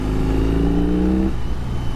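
A 2021 BMW R 18 motorcycle engine revs with a deep, steady low-end drone that holds, then drops off abruptly partway through, loud and close.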